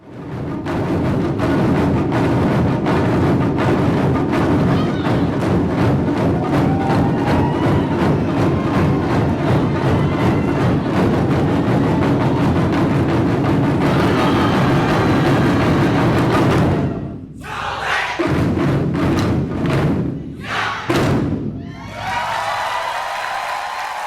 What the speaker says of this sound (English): you can hear the banging of Japanese Taiko drums throughout the Puget Sound